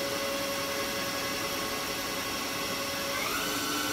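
The spindle of a Haas VF-6 CNC vertical mill runs at 1,500 RPM with a steady mechanical whine over a constant whirring hum. Its pitch shifts upward briefly near the end.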